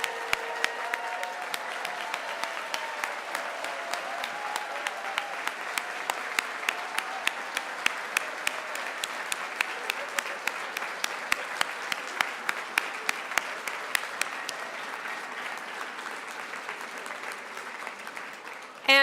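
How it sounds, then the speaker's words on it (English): Graduation ceremony audience at the University of Wisconsin–Madison School of Education, standing for a long, sustained round of dense applause with many overlapping claps that holds steady and then trails off at the end. "let's all stand up, and let's do one rousing round of applause"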